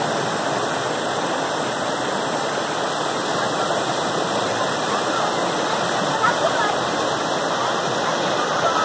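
River water rushes over natural rock slides carved into stone at a family swimming spot in Jamundí, Colombia, a loud, steady, close roar of flowing water that continues without a break.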